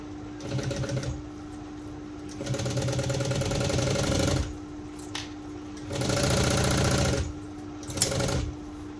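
A sewing machine stitching a shoulder bag runs in several loud, fast-buzzing bursts of one to three seconds each, separated by short pauses.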